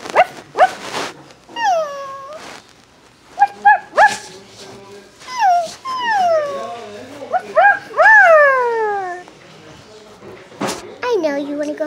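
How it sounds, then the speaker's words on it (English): A puppy yips, whimpers and gives high whining cries in a series of short bursts and drawn-out, falling whines, close and fairly loud, with brief gaps between calls. "And here's my puppy, Jasper."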